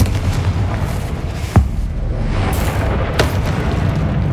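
A Confringo spell blast in the video game Hogwarts Legacy, a loud booming burst with a sharp crack, then a second, lighter impact, over a continuous rumbling game soundscape.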